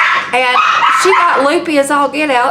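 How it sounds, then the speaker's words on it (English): Dogs bark and yip behind a person talking, several sharp barks breaking in and out under the speech at close range. "sorry about the dogs."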